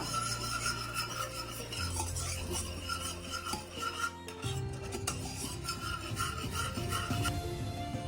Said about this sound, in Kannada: ಇದು ಹಿಂಗೆ ತಿರುಗಿಸ್ತಾ ಇರಬೇಕು, ಗಂಟಾಗಬಾರ್ದು.